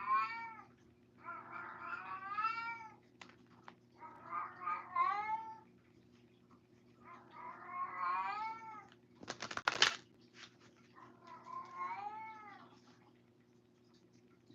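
A pet cat meows repeatedly in drawn-out, wavering calls, about five of them spaced across the stretch, with a sharp click partway through and a low steady hum underneath.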